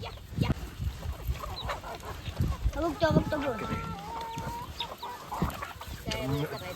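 A village rooster clucks and squawks near at hand as it is being caught, its calls mixed with rustling and several voices talking over it.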